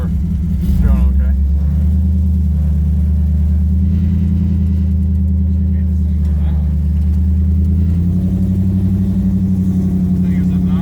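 A roofless 1960 Chevrolet Impala two-door with an LS engine swap drives along, its loud, steady low engine rumble droning throughout with a brief rise near the start, while someone talks over it.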